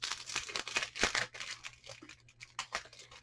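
Gold foil paper being handled during a craft haul, giving a steady run of bright crinkling and crackling rustles with short tearing-like bursts, close and fairly quiet, with no one talking.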